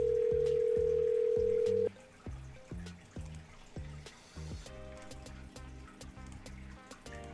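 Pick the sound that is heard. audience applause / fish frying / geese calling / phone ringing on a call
phone ringing on a call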